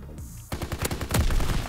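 Rapid gunfire from a World War II era gun in the video game Call of Duty WW2, a quick burst of loud close shots in a fast rhythm after a brief quieter start, no talking.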